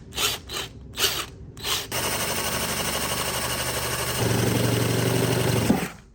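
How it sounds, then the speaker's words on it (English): A power drill bores holes through the sheet-metal roof of a van ahead of jigsaw cutting, starting with several short bursts, then a steady close whirring grind that gets louder near the end before stopping. "I'm going to start by drilling some holes for my jigsaw to go in."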